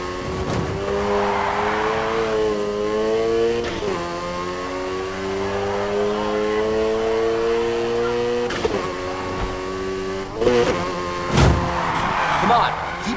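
A car drifts in Need for Speed Heat, its engine holding a loud, steady drone that rises and falls through the slide. Brief sharper bursts break in near the end while a voice talks over it.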